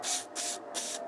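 Three quick bursts of cleaner spray hiss through the small center and side jet holes of a Tecumseh go-kart engine carburetor, each short blast separated by brief pauses, close to the microphone and fairly quiet.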